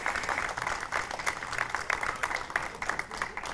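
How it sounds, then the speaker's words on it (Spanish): An audience at an intercultural gathering in Isla Cristina claps for a local honoree, a busy, fairly distant patter of many hands that swells and dips unevenly over the few seconds. "vamos a darle un fuerte aplauso a nuestro Paco Torres."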